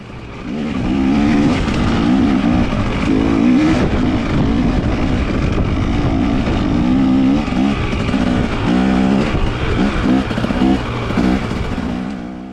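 A pit bike engine revs and drops continuously as the rider takes corners, loud and close throughout with rising and falling pitch and no talk.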